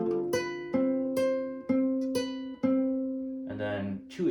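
Guitar plucking a sequence of notes from a piece from Jujutsu Kaisen, about eight evenly spaced ringing attacks, close and clean, ending with a brief busier strum.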